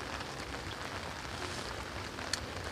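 Rain falling steadily on umbrellas at a riverside fishing spot, a soft continuous patter with faint drops, quiet and even throughout.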